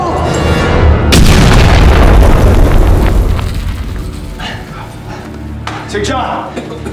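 A grenade blows up in a Nazi-themed horror war film: one sudden, loud blast with a deep, rolling boom that slowly fades, followed by scattered rumbling debris and noisy bursts.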